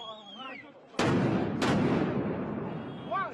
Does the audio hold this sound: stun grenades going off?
yes